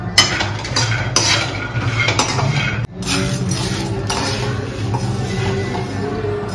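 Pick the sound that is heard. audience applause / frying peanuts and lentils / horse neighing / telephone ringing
frying peanuts and lentils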